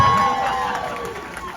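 Audience at a Steel City Con convention Q&A panel with Dean Cain and Teri Hatcher cheers and applauds, a broad, loud crowd wash with shouts on top that fades slightly over a short stretch.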